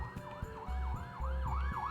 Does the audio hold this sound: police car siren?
yes